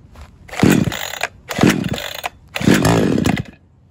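Huyosen 20-inch 60cc gas chainsaw held at high throttle, roaring up in three loud, close bursts with short drops to idle between them.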